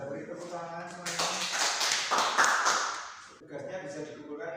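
Classmates clap for a group presentation in a school classroom, a short burst of applause in the middle that fades out, with a teacher speaking before and after it.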